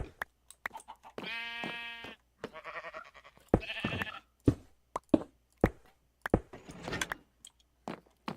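Sheep bleat in a Minecraft world, several wavering calls in a row, fairly close and clear, broken up by sharp knocks and clicks between them.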